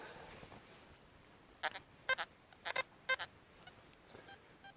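An XP ORX Deus metal detector gives a series of short electronic signal tones, about six beeps in uneven pairs, over a faint background hiss.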